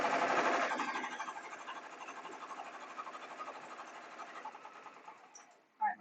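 A sewing machine stitches fabric for a homemade shopping bag in one continuous humming run that gradually softens before a brief clunk at the end.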